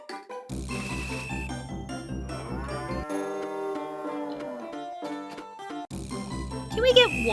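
Cartoonish cow moos from a farming video game, heard over bright, steady background music with chiming notes, at a moderate, even level for several seconds.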